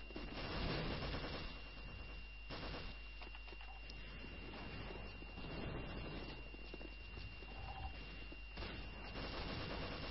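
Rapid MP5 submachine-gun fire in a team-deathmatch fragfest, with a long-distance kill near a ghost area; dense crackling bursts run continuously under the game's steady background din for the whole stretch.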